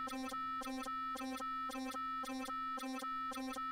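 A Hydrasynth arpeggio steps through the pitches of a 17-step LFO in a steady, even pulse of short, bright synth notes. It plays seven repeated hits over a held tone, clear and moderately quiet, with no voices.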